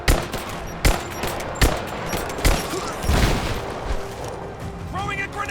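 Rise of the Tomb Raider video game combat: sharp, loud gunshots at roughly regular intervals, then a heavier blast and scattered fire, with shouted voices over the battle.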